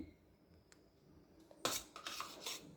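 A knife spreading butter on sandwich bread, heard as quiet scattered clicks followed by a burst of close scraping and metallic clinks against a plate, with no talking.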